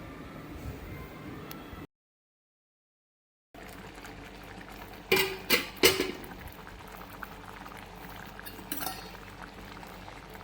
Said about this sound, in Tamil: 10 நிமிஷம் அப்படியே அடுப்பில் நம்ம விட்டோம்னா நல்லா கிரேவி திக்காக வந்துடும்